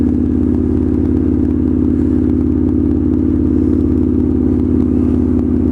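A straight-piped motorcycle rides along with a loud, continuous, deep rumbling exhaust drone, steady and close throughout, with no talk heard.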